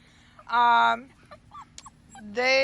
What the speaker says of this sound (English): This is nuisance barking.